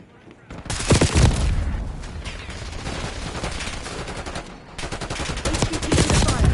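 Automatic gunfire in Call of Duty Black Ops 6, rapid bursts close and loud, with a brief lull mid-clip before another dense volley, under in-game voice callouts.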